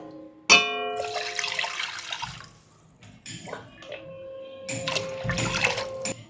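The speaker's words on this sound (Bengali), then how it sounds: "আমি চাউমিনটা সেদ্ধ করার জন্য জল দিলাম।" Water pours into a cooking pot set up to boil chowmein, a splashing run from about half a second to two seconds, then quieter clatter and a second stretch of running water near the end.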